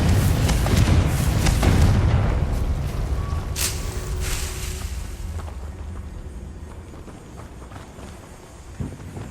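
In the video game Hogwarts Legacy, the Confringo fire spell goes off as a loud booming blast at the start, followed by crackling debris and a rumbling tail that slowly fades away. No one speaks.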